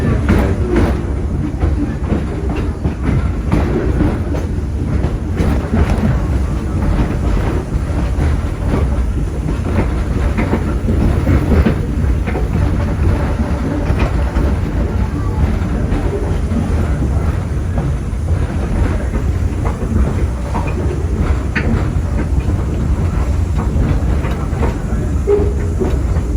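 Torch Lake excursion train running on rails, a continuous loud rumble with rattling clatter that stays steady throughout, heard from on board.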